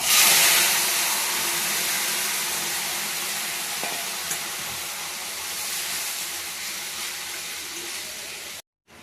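Curry hits a hot pan and erupts into a loud, broad hiss of sizzling and steam that slowly settles into a steady fry before cutting off abruptly near the end, close up with no voices.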